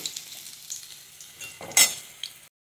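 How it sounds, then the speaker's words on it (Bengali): Coriander leaf fritters sizzle in a pan as one is flipped, a soft crackle with scattered taps and one sharp scraping burst near the end before a sudden cut to silence. "ধনেপাতার এক পিঠটা ভাজা হয়ে গেছে, আমি এবার উল্টে দেব।"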